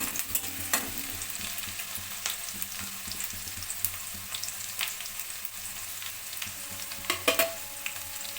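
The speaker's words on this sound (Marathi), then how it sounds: "मिरची इथे झाली आहे आपली फ्राय" Green chilies frying in a pan, a quiet steady sizzle with occasional soft spatula taps and a small cluster of clinks near the end, no one speaking.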